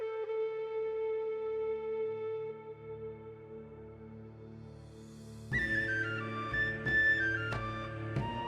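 A synthesized whistle plays a sustained Celtic melody over a soft backing in an FL Studio production, then the arrangement swells into a fuller, brighter passage with struck accents about midway.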